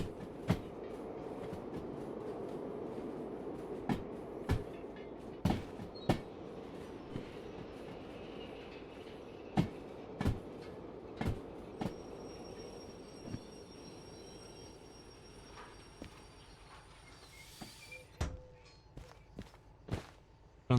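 Train cars shunting and loading in a railway game, a low rolling rumble punctuated by sharp metallic clanks and couplings, with a faint squeal late on.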